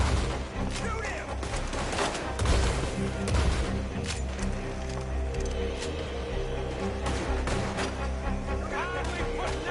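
Gunfire in Red Dead Redemption 2 crackles through a busy shootout, with scattered shots and booming reports under game music and voices, loud and continuous throughout.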